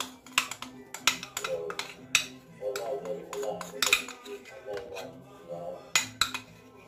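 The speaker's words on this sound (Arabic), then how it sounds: "بعد ما خلطت لو شوكولا مع الصفر ديال البيض" Melted chocolate being stirred into egg yolks in a bowl, with a utensil tapping and scraping against the bowl in quick, irregular close-up clinks and a soft wet churn underneath.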